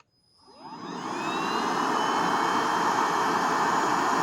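APOSEN H20-4 vacuum cleaner starting up at low speed, its motor whining up from silence over about a second into a steady, loud whirring rush with a high tonal whine.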